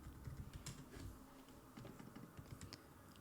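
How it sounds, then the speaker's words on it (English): Soft, rapid clicking of keys on a computer keyboard, a continuous patter of typing heard alone and fairly faint. "So I'm typing this in here."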